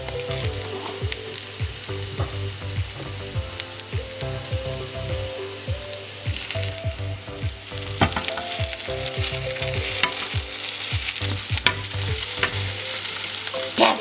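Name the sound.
Nutella French toast rolls frying in a pan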